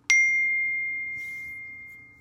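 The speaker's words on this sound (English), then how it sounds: "you know what it is? It's an iMessage." An iPhone chimes with a single iMessage notification ding: a sharp bright strike followed by a clean tone that rings and fades slowly over about two seconds, close and alone against a quiet room.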